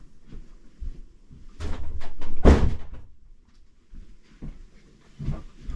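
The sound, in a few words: door banging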